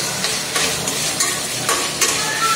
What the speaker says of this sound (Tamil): ஆஃப்டர் உப்பு போட்ட பிறகு இதை நல்லா வதங்கணும்